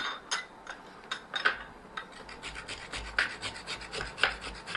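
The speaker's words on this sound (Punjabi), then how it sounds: "ਇਹਨੂੰ ਆਪਾਂ ਗ੍ਰੇਟ ਕਰ ਲੈਣਾ" A potato is rasped against a kitchen grater in steady back-and-forth strokes, rhythmic scraping repeated about twice a second, close and clear with no talking.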